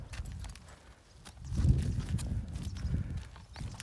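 Hooves of a calm draft-horse mare clip-clop at a slow walking pace, fairly close, with soft irregular thuds and a low rumble of outdoor background.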